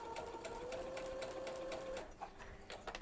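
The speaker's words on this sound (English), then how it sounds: "Just line it up and sew along the edge." A sewing machine runs steadily with a quarter inch foot as fabric is fed along its edge, its motor whine constant and close, with a brief pause near the end before stitching resumes.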